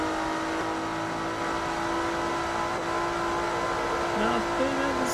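A race car engine in Forza Motorsport 3 drones steadily at high revs for the whole stretch, with a second car's engine rising in pitch near the end as it draws alongside. Someone talks quietly over the engine noise.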